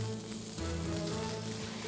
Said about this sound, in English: celery looks like it's been sizzling